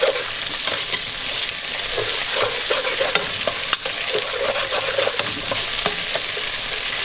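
Ginger frying in a pan while being stirred, a steady close sizzle with scraping stir strokes and small clinks running throughout, no talking.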